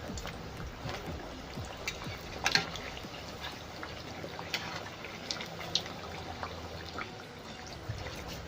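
Aloo chop potato fritters frying in hot oil after being flipped, a steady close bubbling crackle with scattered small pops and no talking.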